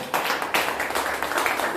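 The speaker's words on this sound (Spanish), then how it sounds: "Dé un aplauso al Señor" Church congregation applauding during a Sunday service, a dense patter of many hands clapping in a reverberant hall, fairly loud and steady with small surges.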